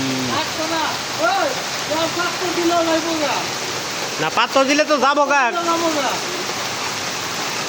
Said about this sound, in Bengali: বৃষ্টি আর বৃষ্টি এত বৃষ্টি